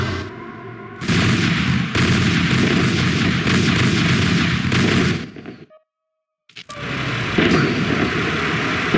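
Hostile gunfire and artillery from the War of the Worlds audio drama roar as a loud, dense barrage of booming blasts, cut off by a brief silence before resuming just as heavily.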